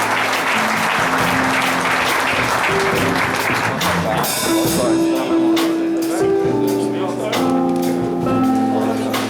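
Church congregation applauding loudly and continuously throughout, with sustained tones from music or voices rising underneath and growing toward the end.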